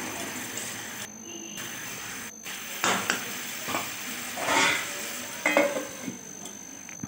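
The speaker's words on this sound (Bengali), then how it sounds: "মশলাটার সাথে আলু আর ফুলকপিগুলো ভালোভাবে কষে নিতে হবে।" Small potatoes and cauliflower fry with spices in a pan, giving a steady soft sizzle broken by repeated scraping and stirring clatters from a spoon against the metal.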